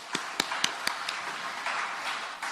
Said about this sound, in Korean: 우리 청년들을 위해서 박수 한번 보냅시다.